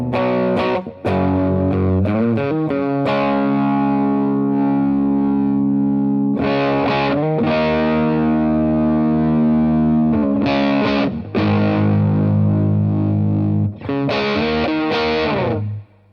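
A Telecaster bridge pickup drives a Mad Professor Mighty Red Distortion pedal, playing loud, saturated sustained chords and short riffs with pauses between phrases, no talk.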